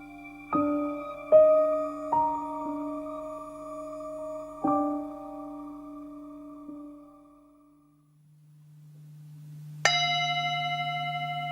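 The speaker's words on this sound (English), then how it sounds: "the wake-up gong is rung" A wake-up gong struck in the dark early morning, several ringing strikes in succession whose metallic tones hang and decay, followed after a pause by another bright struck tone over a low hum.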